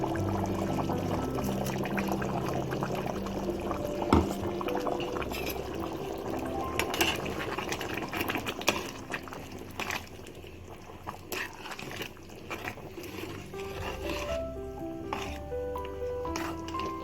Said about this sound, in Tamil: இந்த தேங்காய் விழுதையும் நான் சேர்த்துக்கிறேன்.